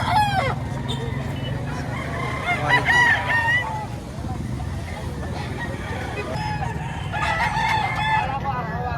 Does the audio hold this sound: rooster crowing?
yes